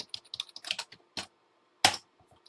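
Keys clack on a computer keyboard during a Minecraft redstone session, a loose run of light taps followed by a pause and one louder, heavier press like the space bar, close and alone.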